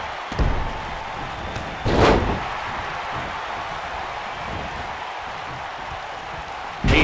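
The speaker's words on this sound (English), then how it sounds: "Slams him down with authority." A wrestler is slammed down onto the ring mat in a one-on-one pro wrestling match between Jeff Hardy and Kurt Angle, with a few heavy thuds standing out over a steady arena crowd roar.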